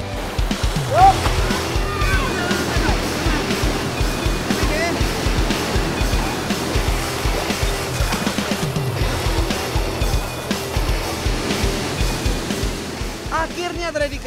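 Timbulun waterfall pours with a steady broad rushing roar close by, a continuous wash of falling water, while people talk over it now and then.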